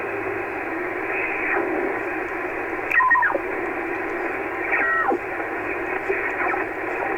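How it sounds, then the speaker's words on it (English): A Yaesu FT-757GX transceiver picks up radio signals as a constant band of hiss and static, with brief chirping and warbling signal bursts that sweep across it several times. "Hearing lots of signals. We weren't hearing that before."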